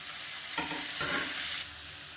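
Chopped tomatoes for kara chutney sizzle in a hot pan, frying steadily while being stirred, with louder bursts as they are added and turned, close up and without talking.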